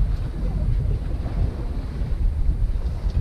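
Wind buffets a sailboat crossing the Bay of Biscay, a steady low roar with gusty rumble and some water wash beneath, continuous and fairly loud throughout.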